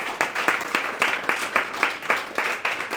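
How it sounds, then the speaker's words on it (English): Audience applause at a community college library author talk honoring the head librarian: steady, rhythmic clapping with evenly spaced bursts, moderately close, with no voices. "So once again, we would like to applaud your efforts."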